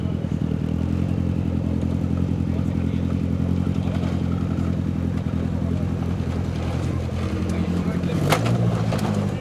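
A brand new 4x4 off-road vehicle at a Maxxis 4XTR event in Parys, 2014, rumbles steadily down the course with a low engine drone and clattering, under a commentator's voice.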